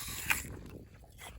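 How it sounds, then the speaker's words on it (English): A single crisp bite into a Blumgren Honeycrisp apple picked from a farm tree outdoors, a short close crunch followed by quiet, low chewing. "eating some Blumgren Honeycrisp apples from the tree at the farm"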